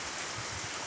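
Evening rain in Kampung Batang Mitus, Tutong, a steady broadband hiss of falling drops heard alone for a brief moment.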